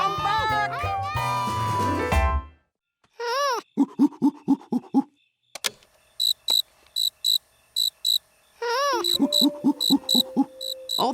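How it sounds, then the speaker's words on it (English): Recorded cricket chirping in an animated children's cartoon, with crisp repeated pulses in short bursts separated by silences, after louder voices and music at the start. "Oh, that's a nice recording of a cricket."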